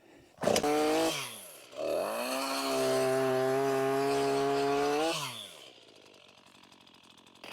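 A chainsaw starts with a sharp burst, drops briefly, then revs up and runs at a steady loud roar for several seconds before cutting back to a low idle.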